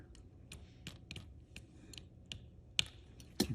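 Scissors snip across flattened CAT6 cable wires, a series of sharp close clicks spaced irregularly over a low background hum, no talking.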